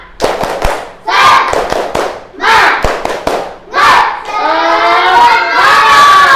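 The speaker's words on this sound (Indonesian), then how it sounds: "Sebelum kita akhiri pelajaran hari ini, tepuk semangat." A primary school class does a rhythmic spirit clap at the end of a religious studies lesson: sharp unison claps alternate with loud group chanting in repeated bursts, ending in a sustained shout.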